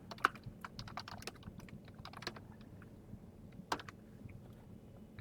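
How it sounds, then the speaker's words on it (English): Typing on a computer keyboard, with quiet irregular key clicks in short bursts and a few sharper taps against a low background hum. "I would type Kwame, Oak Leaf"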